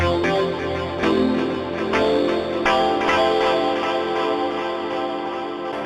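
A gritty Roland JX-8P synth patch plays continuous notes with repeating attacks, distorted by Decimort and smeared by EchoBoy echo and reverb, loud and steady throughout.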